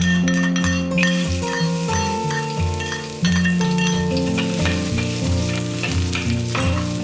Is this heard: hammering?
no